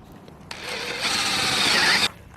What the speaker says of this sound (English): I'm just going to drill a hole bigger than our bolt so that it can slide easily